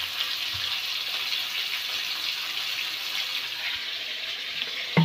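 Water pours into a pot of mutton curry as it cooks, a steady close splashing hiss running throughout, ending with a brief clunk.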